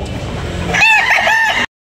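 A rooster crows loudly and close at a crowded chicken market in Tabunok, where yellow-legged and white-legged fighting cocks are sold; one clear crow rises over background market noise and ends abruptly.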